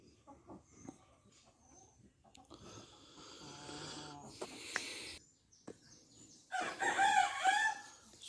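Roosters crow twice over a rough, noisy farmyard background, the second call louder and nearer, with scattered clucks in between.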